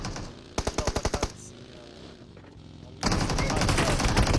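A fast burst of about eight video game gunshots rattles out, a lull follows, then a louder sustained stretch of firing and noise rolls in.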